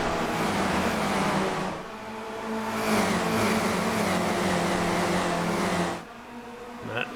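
A tight pack of Spec Racer Ford race cars at Watkins Glen buzzes loudly and continuously, engines overlapping like a swarm, swelling as they pass and dropping off sharply near the end.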